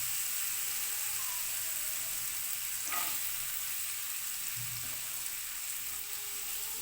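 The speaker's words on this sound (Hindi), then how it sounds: "इसको करते हैं अच्छे से फ्राई थोड़ी सी।" Vegetables and carrots frying in a pan, a steady soft sizzle running throughout with faint stirring noises and a brief clatter near the middle, no talking.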